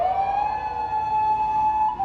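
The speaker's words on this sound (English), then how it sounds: "there's an ambulance going by here" An ambulance siren in Tokyo holds a steady, loud single tone as it passes nearby, with faint traffic rumble beneath.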